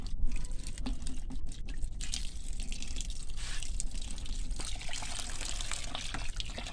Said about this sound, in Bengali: তখন জল দিচ্ছি এটার মধ্যে